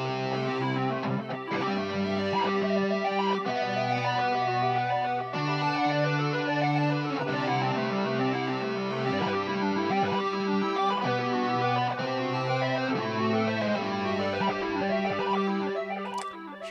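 Moody ambient electric guitar played through a Fractal effects preset, sustained layered tones with shimmering echoes that drift steadily for the whole stretch, with no voices.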